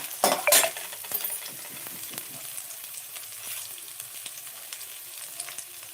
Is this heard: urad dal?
yes